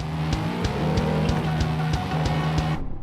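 Race car in the Jak X combat racing game revving hard and accelerating, a loud sustained engine drone with rhythmic gear-like pulses and a hint of tire noise, cutting off sharply near the end.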